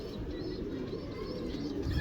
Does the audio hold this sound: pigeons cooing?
yes